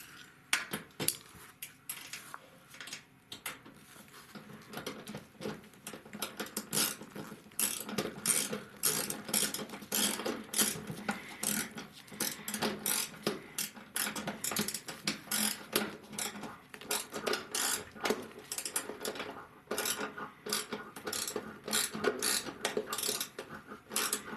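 Rapid metallic ratcheting clicks from a hand ratchet removing the last screw on a Kenmore Elite HE4t washer, repeated in long close bursts with clanks of metal parts.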